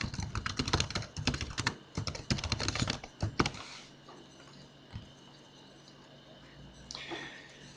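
Rapid, close keystrokes on a computer keyboard clatter in irregular bursts as an email address and password are entered, then stop, leaving a quiet room with a couple of isolated clicks.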